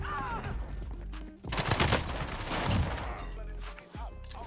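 Bursts of LMG fire in the shooter Warzone ring out in rapid succession amid dense game sound, with a person talking over the action throughout.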